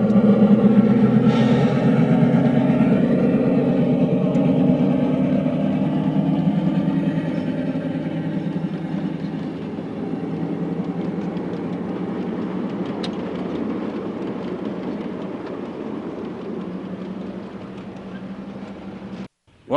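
A miniature railroad train at Iron Acres Railroad in Jackson, New Jersey, pulls out of its station with a steady, loud engine rumble that fades slowly as it moves away, with faint voices at times.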